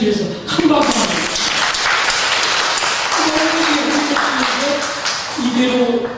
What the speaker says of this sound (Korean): 우리 바람개비 홈처치에서 큰 박수 합니다